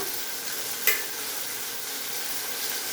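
Green chillies and then onions fry and get stirred in hot oil for a lentil stir-fry, giving a steady, close sizzle with one brief sharp scrape of the spoon near the start.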